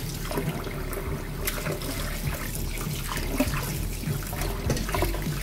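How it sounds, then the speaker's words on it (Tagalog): Water runs steadily from a kitchen tap over raw pork spare ribs being washed, a continuous trickling and splashing with small clatters, fairly close and without talk. "hugasan na natin yung ating spare ribs."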